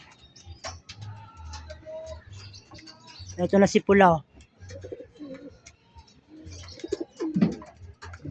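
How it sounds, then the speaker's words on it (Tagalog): Pigeons coo close by after being released and returning thirsty to water, low throaty calls recurring among faint chirps and light ticking, with a person talking intermittently over them. "Uhaw na uhaw yung ating hinagis na kalapate"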